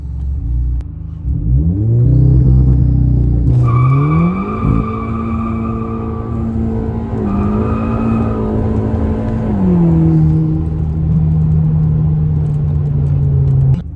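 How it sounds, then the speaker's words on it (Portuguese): Volkswagen with a DSG gearbox launched hard from standstill to 100 km/h, engine roaring upward through several quick gearshifts, each marked by a brief dip in pitch; loud, close and continuous, with no talk. "aceleração rápida, só um 0 a 100"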